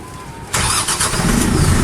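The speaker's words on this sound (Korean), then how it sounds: "먼저 시동을 겁니다." An RX tractor's engine cranks and catches after about half a second, then settles into a loud, steady running roar with no talking.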